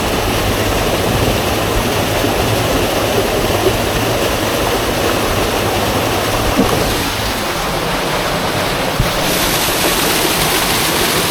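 Rushing mountain stream and waterfall at Mosedale Falls in Swindale, a steady, loud, broadband roar of tumbling water close by, continuous throughout with no voices.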